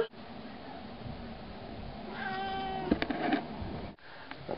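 Cat meowing outdoors in West Texas, a drawn-out tonal meow rising in the middle followed by a short second call, moderately close under low background noise.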